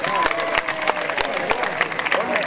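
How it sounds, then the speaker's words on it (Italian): An audience at a kickboxing event claps steadily, a dense close applause with some crowd voices mixed in. "Applausi!"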